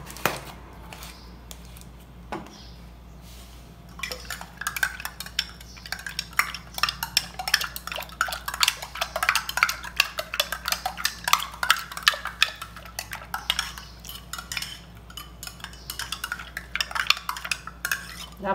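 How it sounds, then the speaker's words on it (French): A spoon stirs turmeric powder into a glass of water, clinking and scraping steadily against the glass for a long stretch with no voices. "Moi mette li nan verre de l'eau et puis moi bien brasse li pour le fond."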